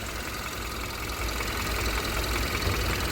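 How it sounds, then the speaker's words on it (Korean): A Hyundai Avante MD with about 70,000 km runs at idle, giving a steady, even engine hum that holds constant throughout, with no voices over it. "이렇게 조용한 엔진 소개해 드립니다."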